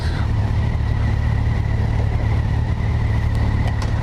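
Engine of a Kawasaki Versys 1000 LT SE motorcycle in road mode, a smooth steady low drone under wind rush with no voices.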